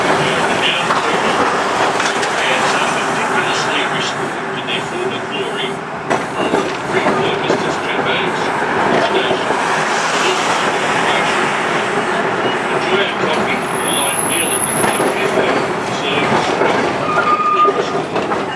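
The Bendigo Talking Tram rolls along its rails in Australia's oldest operating tram network, opened in 1903. A steady rumble and wheel clatter run throughout, with a narrator speaking over it and occasional brief squeals.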